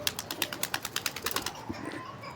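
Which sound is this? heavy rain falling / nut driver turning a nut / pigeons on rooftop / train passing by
pigeons on rooftop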